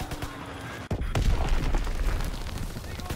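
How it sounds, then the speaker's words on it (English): An enemy bomb explodes in Call of Duty WWII: a sudden heavy boom followed by a sustained, dense rumble of battle noise that stays loud throughout. "Enemy bomb incoming! Get to cover!"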